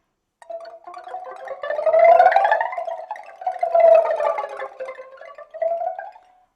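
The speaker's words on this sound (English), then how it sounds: "Or you can imitate the sound like a blow wind." Pipa evoking cold blowing wind through sliding, bent notes that swell and fade in long gusts, played solo and close.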